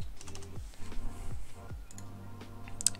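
Typing on a computer keyboard, a quick run of close, crisp key clicks with an uneven rhythm and a brief low hum underneath, no talking.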